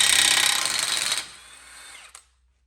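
An impact wrench loosens a nut on the front strut of a 2014-2018 Jeep Cherokee, giving a loud, close, sustained buzzing hammer that cuts off and winds down with a final clack.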